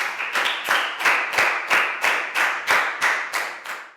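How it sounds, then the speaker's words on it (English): A class of primary school students claps together after a lesson activity, a steady run of sharp, rhythmic claps about four per second, fairly close and loud, with no talking. "And round of applause for everyone"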